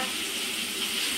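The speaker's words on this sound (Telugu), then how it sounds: "ఇటు సైడ్ అయితే చికెన్ ఉడుకుతుంది." Chicken curry sizzles and steams steadily in a hot pan, a close, continuous frying hiss with no voices.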